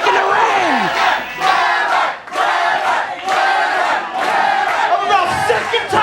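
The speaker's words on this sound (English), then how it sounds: "Listen to this crowd." A packed wrestling arena crowd roars, cheers and shouts continuously, loud and dense, with swelling waves of noise and a few brief dips.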